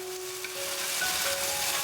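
Beef pieces stir-fry in hot oil for rice noodles, a faint, even hiss of frying with a light tonal hum in the background and no talking.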